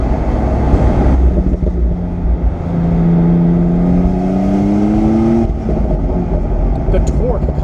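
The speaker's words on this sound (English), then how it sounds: "you feel those turbos behind you spooling up" A 2017 Porsche 911 Carrera 4S Cabriolet pulling hard, its turbocharged engine note rising steadily in pitch for a few seconds amid road and wind noise, heard from inside the car.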